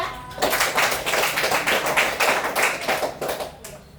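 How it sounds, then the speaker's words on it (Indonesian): A classroom group applauds a presenting student team, a dense, steady burst of clapping from many hands for a few seconds before it thins out. "kita berikan aplaus dulu untuk kelompok 2"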